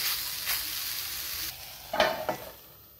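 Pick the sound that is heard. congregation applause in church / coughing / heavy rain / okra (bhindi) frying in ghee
okra (bhindi) frying in ghee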